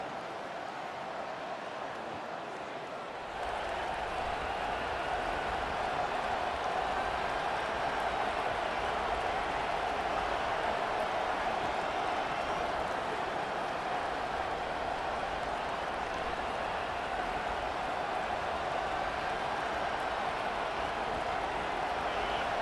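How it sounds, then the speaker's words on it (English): Stadium crowd noise from EA Sports College Football 25 roars as a dense, steady wash of cheering that swells slightly after a few seconds and stays loud and continuous. "This crowd trying to show them what it's going to be like all day in this house."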